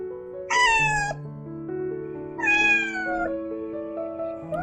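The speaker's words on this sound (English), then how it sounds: "cat," A cat meows twice, two clear, close, drawn-out cries with a falling pitch, separated by a short pause over a soft sustained musical background.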